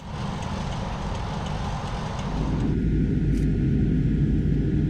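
A US Navy P-8 Poseidon submarine-hunting patrol plane in flight after takeoff produces a continuous loud, broadband jet roar that thickens and grows heavier partway through, with no voices.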